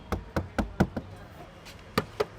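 Sharp knocks on the sound-damped door of a Maruti Brezza, a quick cluster of close, dull thuds, then a pause and a few more solid raps.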